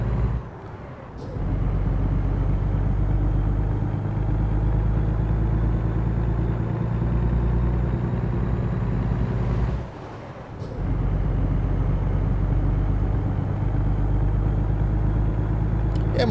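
A simulated truck engine in American Truck Simulator hums at a steady low idle-to-cruise drone, with two brief hissing bursts like air brakes breaking the tone.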